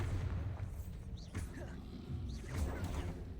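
A Bombarda blasting spell in Hogwarts Legacy, heard as a muffled explosive boom with crashing, cracking impacts and rumbling debris, moderately loud. Other spell effects mix in around it, and no one talks.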